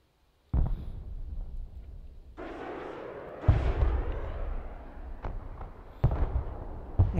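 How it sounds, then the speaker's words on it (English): Artillery firing in the video game Broken Arrow, a series of heavy booming blasts with rumbling tails and a few sharp cracks, loud and spaced irregularly over a continuous low battlefield roar. "it's got artillery firing"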